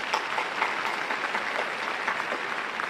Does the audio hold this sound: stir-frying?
no